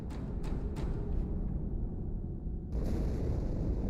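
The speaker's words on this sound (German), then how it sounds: "Die Explosion kam aus dem Innern der Athen, genau wie bei der Malta." An explosion aboard the ship Athens in the Halo 2 video game, heard as several sharp bursts followed by a deep, sustained rumble that swells again near the end.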